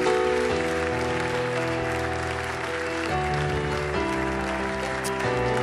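Church congregation applauding the team at a Centre Réveil service, a full sustained clapping from a large crowd lasting the whole stretch, with music or organ tones continuing underneath.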